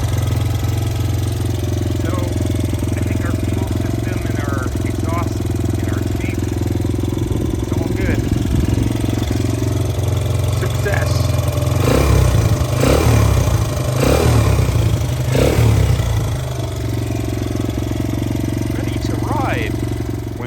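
A Honda XR100 dirt bike fitted with an NSF100 OEM exhaust runs on choke, putting out a loud, continuous low engine drone with some rougher revving bursts partway through.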